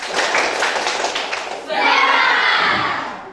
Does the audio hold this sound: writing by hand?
no